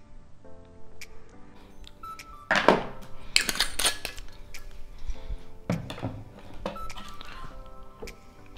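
A spoon stirs a chili lime cashew feni drink in a glass with a slit chili, making a run of light ticks, clinks and knocks, a louder rattling stretch in the middle, and faint talk in the background.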